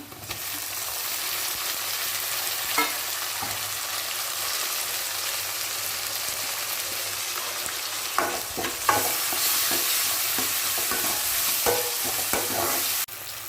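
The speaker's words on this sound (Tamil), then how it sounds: "இப்போ தக்காளி நல்லா வதங்கிடுச்சு" Tomatoes and onions sauté for a kurma in a pan, giving a continuous close sizzle broken by scraping stirs that grow busier and louder toward the end.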